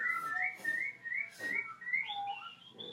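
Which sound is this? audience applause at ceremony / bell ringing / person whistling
person whistling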